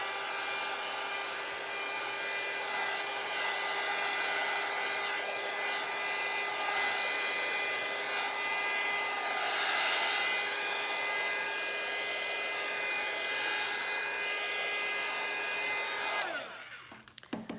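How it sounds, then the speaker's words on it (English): A heat gun blowing across an alcohol ink coaster, a loud, steady whine and rush of air held close for a long stretch before cutting off abruptly near the end. "And then you can take your heat gun and move it around."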